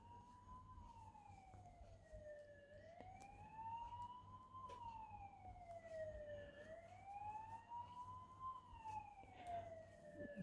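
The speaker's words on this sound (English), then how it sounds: "but there's a siren going somewhere." A distant emergency siren wails up and down in slow sweeps, faint but clear over a low steady hum.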